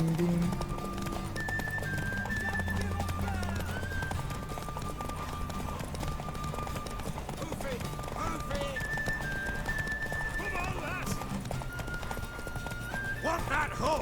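Horse hooves clip-clopping at a run with whinnies in The Witcher 3, set against game music and ambient sound at moderate level, with faint voices in the background.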